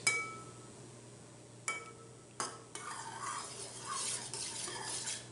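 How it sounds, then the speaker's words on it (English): A spoon stirs yeast into liquid in a bowl for baguette dough, with a few sharp clinks against the side, then a steadier scraping swirl that grows slightly louder toward the end. "you stir this until it is dissolved and or there are no clumps of yeast"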